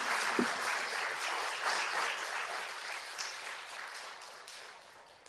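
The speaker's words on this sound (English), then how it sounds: "I invite you to join me in a warm round of applause for our excellent speakers" Audience at a policy roundtable on EU finances applauds the speakers, a soft, even patter of clapping from a modest crowd heard at a distance, continuing steadily and slowly thinning.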